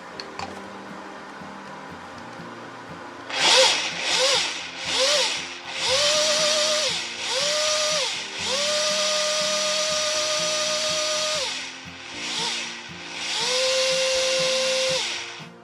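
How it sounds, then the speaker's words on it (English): A blender whirs through fermented pepper solids for homemade hot sauce in a series of loud, high-pitched pulses, some short and some held several seconds, with the motor pitch shifting as it chops, close up and without talk. "go ahead and put the solids in the blender and we're gonna blend those up."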